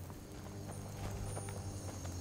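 Horse hooves clip-clopping in the Skyrim video game, a quiet steady walking rhythm of hoofbeats over a humming ambient background, with no talk.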